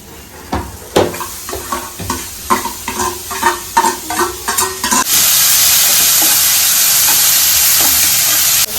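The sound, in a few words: stir-frying chopped beans, carrot and capsicum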